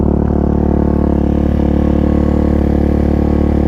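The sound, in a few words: Suzuki DRZ400 motorcycle engine idling at about 4,300 RPM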